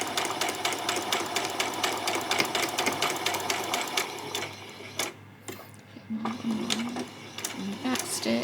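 A home sewing machine runs back stitches on a doll's peasant top with a fast, even mechanical clatter that fades midway, then pauses briefly before starting up again, unevenly and with odd whirring noises.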